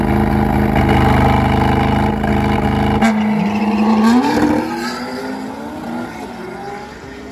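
Race car at a drag racing autodrome: a loud, steady engine roar for about three seconds, then a sharp pitch change as the car pulls away, fading over the next few seconds.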